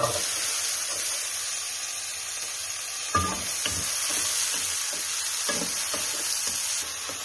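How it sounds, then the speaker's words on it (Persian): Steady oily sizzling of peppers frying in olive oil in a pan, with occasional scrapes and stirring knocks, close and continuous throughout. "روغن میریزیم و فلفلامون رو تفت میدیم"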